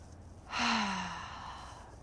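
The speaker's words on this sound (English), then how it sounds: "taking 1 deep breath in through the nose and out through your mouth" A single deep breath drawn in through the nose and released out through the mouth during a calming self-soothing exercise, a close, soft airy rush rising then slowly fading, with no talk over it.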